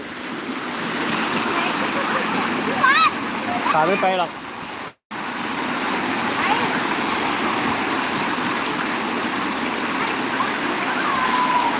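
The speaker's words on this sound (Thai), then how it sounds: "น้ำเยอะแล้วเห็นไหมน้ำฝนมาเยอะแล้ว" Heavy rainwater rushes steadily through a stream at a Thai cave temple in Nong Hin, Loei, a loud continuous broadband roar with a brief cutout midway, and a voice speaks over it.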